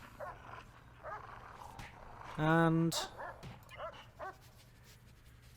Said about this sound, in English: Looks like Bonaparte, the guard dog, has turned up.